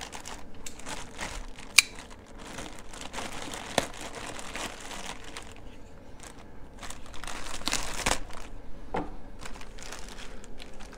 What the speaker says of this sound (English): we'll take it out of the plastic bag